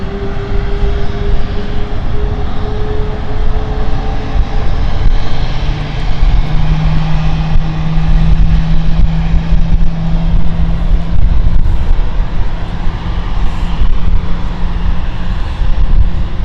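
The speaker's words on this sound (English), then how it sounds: "I can hear an engine start up, in fact" A jet aircraft engine spools up on stand 5 at London City Airport, a loud sustained roar with a rising tonal whine that climbs midway and keeps building, steady and close, with no speech.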